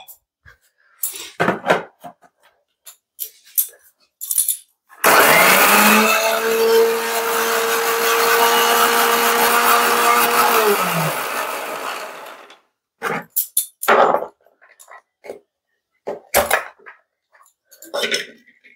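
A kitchen mixer grinds poppy seeds with green chili and water in a loud, steady whirring burst of about seven seconds, framed by scattered clinks and handling knocks before and after.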